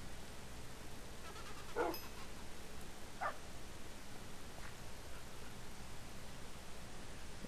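A tamed wolf puppy in Minecraft gives two or three short, faint barks over a steady hiss of background noise, with no voices.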